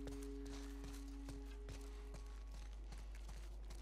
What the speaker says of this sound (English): Jack sounds like a good horse name